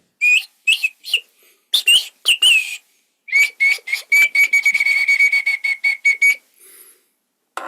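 A Native American flute plays short, bright whistled phrases that imitate spring songbirds, quick separate chirps followed by a fast trilling run, loud and close with silence between the bursts.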